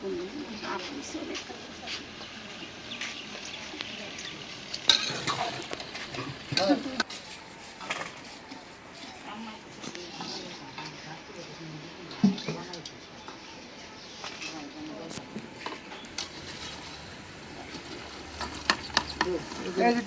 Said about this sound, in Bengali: এই যে পেঁয়াজ আমার ভাজা হয়ে গেছে,